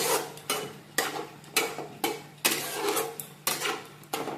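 Fried potatoes being stirred into a Bengali egg curry (dimer dalna) in a pan: close, rhythmic scraping strokes roughly every half second, each a sharp scuff that fades out, with faint sizzling between them.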